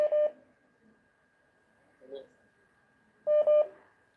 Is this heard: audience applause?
no